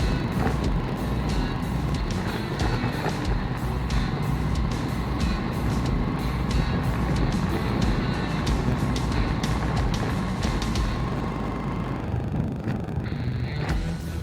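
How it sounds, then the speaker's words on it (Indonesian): Trucks and cars crawl along a badly damaged forest dirt road in a long queue, with a constant heavy engine rumble, some rattling and faint beeps throughout. "Kita lihat banyak kendaraan melewati jalur sini."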